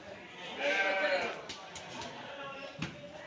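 Goat bleating at a busy livestock market, a single drawn-out wavering call near the start, heard over crowd murmur and talking that continues throughout.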